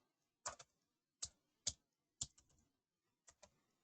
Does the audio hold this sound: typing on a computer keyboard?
yes